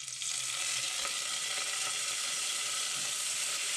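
Aubergine fries with capers and garlic in a pan, giving a steady, close, dense sizzle that holds unbroken throughout.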